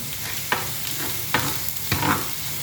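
Chopped garlic frying in oil in a pan, a steady close sizzle broken by three distinct scraping stirs of a spatula against the pan, with no talking.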